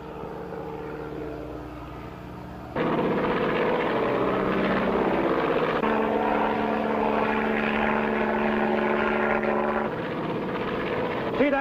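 A seaplane's propeller engine droning near a hunting lodge, a steady loud hum that jumps louder partway through and holds as the aircraft passes close.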